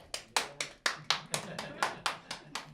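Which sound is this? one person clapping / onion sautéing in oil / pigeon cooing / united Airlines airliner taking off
one person clapping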